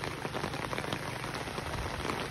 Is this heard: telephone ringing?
no